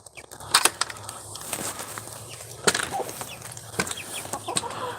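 Chickens shut in a coop on a rainy morning, clucking and squawking in scattered, uneven bursts close by, with occasional sharp scratching or knocking sounds over a low background hum.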